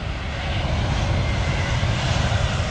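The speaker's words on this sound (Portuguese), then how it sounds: "Chegando um avião também." A loud, continuous roar of an airplane engine arriving to land near a runway passes close by, broad and steady without pause.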